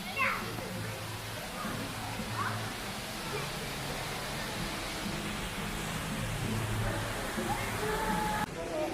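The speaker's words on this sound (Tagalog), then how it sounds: "Parang may falls dito." A small waterfall at Center Parcs Whinfell pours with a steady soft rush, with children's voices and chatter nearby over the water noise.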